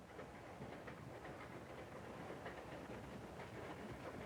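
Train running on rails, a steady rumbling roll with faint rhythmic clatter, heard from inside the carriage at low, even volume with no voices.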